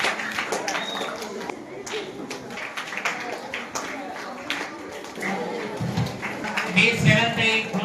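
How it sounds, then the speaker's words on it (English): Audience applause at a school self-governance day event, with scattered claps and taps under continuous amplified speech from an announcer calling names, the clapping swelling briefly near the end. "Claps everyone"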